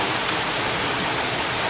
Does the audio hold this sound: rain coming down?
yes